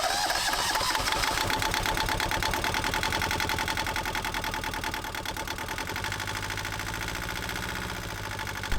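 Rebuilt Yanmar 2GM marine diesel engine running steadily after its rebuild, a loud, continuous close-up clatter with a fast, even mechanical rhythm throughout and no talk.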